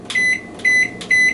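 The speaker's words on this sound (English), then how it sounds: "the sound you're hearing right now of me setting the kitchen timer on the microwave" A microwave's kitchen timer beeping as its buttons are pressed: three short, bright, evenly spaced electronic beeps, loud and close, with faint kitchen background between them.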